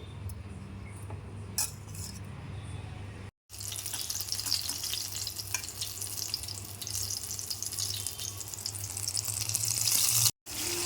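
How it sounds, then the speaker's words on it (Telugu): Batter-dipped chilli bajji fry in hot oil, giving a loud, steady, close hiss with fine crackle that runs almost without a break, interrupted only by two very short gaps. "ఇలా పెట్టుకున్న తర్వాత బజ్జీలు వేసుకోవాలండి పిండిలో డిప్ చేసి"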